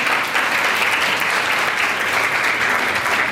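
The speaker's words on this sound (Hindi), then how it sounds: "तालियां लगाएं।" Congregation applause at a Hindi-language church service, a full, steady burst of many hands clapping close by, even and sustained throughout with no speech.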